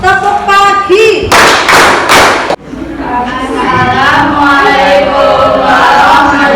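A group of participants at an academic coaching session does a short rhythmic clapping chant, a few sharp, loud claps in quick succession amid voices, followed by continued talking.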